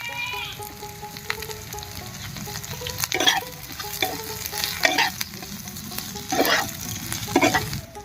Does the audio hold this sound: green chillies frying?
yes